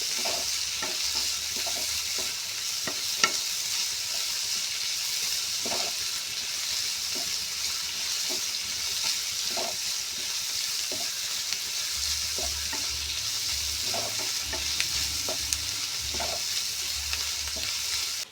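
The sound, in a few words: sautéing tomato and curry leaves in a pan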